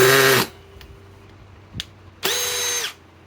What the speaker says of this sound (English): This is Milwaukee M12 fuel 3 hammer drill, 3rd generation.